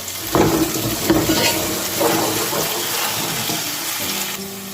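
Onion, potato and tomato fry in oil in a home kitchen pan for a meatless soup, a loud, steady crackling sizzle with stirring scrapes and watery bubbling throughout.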